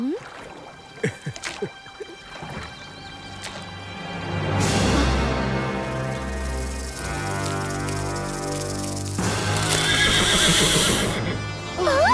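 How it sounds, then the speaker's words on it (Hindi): A horse neighs loudly and at length, its whinny rising and wavering near the listener, after a few sharp hoof knocks at the start; a second whinny bursts out toward the end. "कृष्णा, घोड़ा! चलो पकड़े उसे।"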